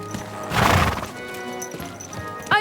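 Horse hooves clip-clop and a loud neigh in Kingdom Come Deliverance 2, with a strong whinny burst near the start, steady hoofbeats and game sounds through the middle, and a short rising call at the end.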